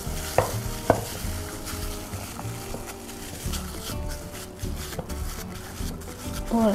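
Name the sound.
stirring pandan paste mixture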